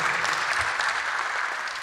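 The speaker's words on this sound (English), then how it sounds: "An applause for Barbara Atchley" Warm, continuous audience applause at a community home-companion style show, dense and even with no individual claps standing out, sustained for about two seconds.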